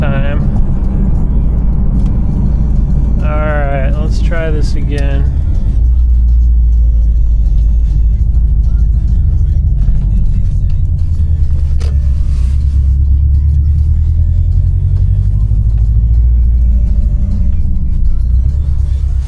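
A 2018 Subaru STI pulls hard at full throttle, the engine roaring loud and continuous with a rising pitch and a brief sharp rev flare early on, then a long sustained drone.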